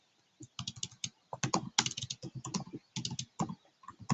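Quick, uneven clatter of fingers typing on a computer keyboard, close and crisp, with keystrokes bunching into short bursts and brief pauses between them.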